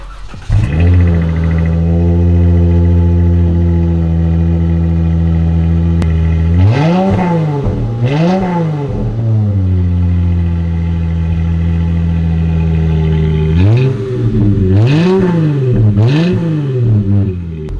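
Dodge Challenger with a newly installed exhaust idling loudly up close, then blipped in two pairs of sharp revs that rise and fall back to a steady rumbling idle, with no talking.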